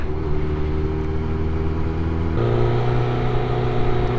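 Low, steady rumble of a Honda CBR1100XX Blackbird motorcycle engine in slow traffic behind a lorry, with the pitch shifting midway as the engine changes gear; no one speaks.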